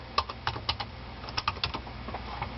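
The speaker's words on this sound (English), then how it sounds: "I'm just typing in the passcode to get this." Someone types a passcode on a computer keyboard, a close burst of crisp, uneven key clicks in quick succession, thinning out toward the end, with no voices.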